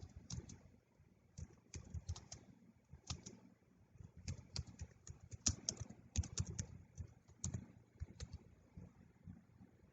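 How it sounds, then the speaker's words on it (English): Fingers tap out a title on a computer keyboard in quick irregular bursts of close, crisp keystrokes with brief pauses, quiet overall and without speech. "Type the title."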